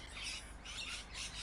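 Bird squawks in the pet shop game Exotica Pet Shop Simulator, three faint, harsh calls in a row with short gaps, heard alone without speech.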